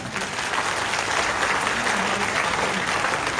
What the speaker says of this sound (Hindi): अच्छा ताली और बजाओ, नींद खुल जाएगी।